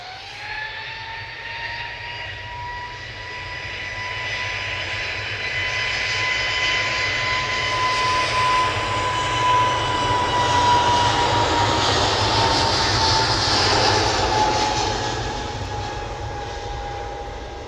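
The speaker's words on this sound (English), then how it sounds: "So here we go, EasyJet on the roll." An EasyJet jet airliner rolling for takeoff at Manchester Airport, a loud sustained engine roar with a rising whine that swells and then slowly fades as it passes.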